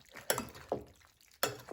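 Three soft scraping swishes as cauliflower pasta is gently tossed and stirred in a pan, close and quiet with pauses between strokes.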